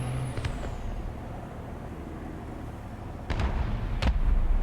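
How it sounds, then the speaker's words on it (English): Gunfire in a tank combat video game, a few sharp distant shots cutting through a steady low rumble of engine and ambience, with a louder burst near the end. "Something shooting at someone."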